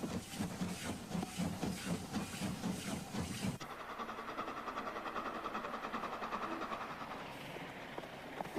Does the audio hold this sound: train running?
yes